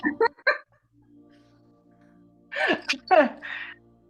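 A single sharp sneeze bursts out close by after a few short vocal sounds, followed by a quiet pause and brief voices.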